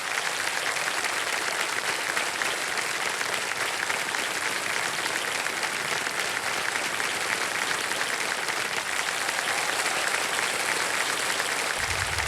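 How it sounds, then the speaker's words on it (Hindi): Loud, sustained studio audience applause on a Hindi-language quiz game show, a dense wash of clapping that fills the room steadily from start to finish. "एक बार जोरदार तालियां बज जाए इनके लिए।"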